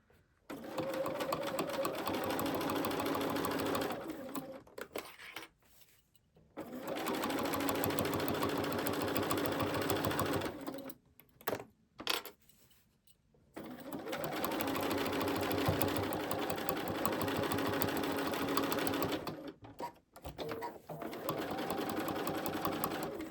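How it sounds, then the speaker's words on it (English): A sewing machine stitches binding onto a quilt in three long, steady runs of fast, even needle clatter, with short quiet pauses between runs where it stops to turn or adjust the fabric. "I'm just going to take one stitch in that direction to get back into my seam"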